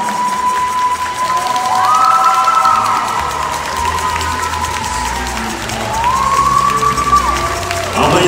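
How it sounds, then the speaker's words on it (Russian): Crowd cheering and applause in a main arena at a ballroom dance championship after a foxtrot, a broad steady roar of clapping and voices lasting throughout, with rising tonal whoops and swells near the middle and end. "Аплодисменты болельщикам не стихают, несмотря на седую ночь в главной арене"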